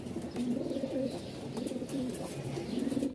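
Fancy pigeons coo steadily at a market stall in Mirpur-1, Dhaka, several birds overlapping in soft, repeated throaty rolls that continue close by for the whole stretch.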